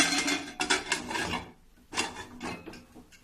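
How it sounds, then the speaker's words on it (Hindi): The metal lid of a pressure cooker is handled and opened during home baking of a semolina and flour cake, giving scraping, rasping metal clanks in two bursts separated by a short pause. "देखो मैं कुकर के ढक्कन खोलती हूँ।"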